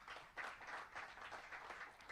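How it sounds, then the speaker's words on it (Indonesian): A church congregation claps for God during a sermon, giving a faint, steady patter of many hands that continues for about two seconds with no talking over it. "Yang setuju, yang sepakat tepuk tangan buat Allah kita"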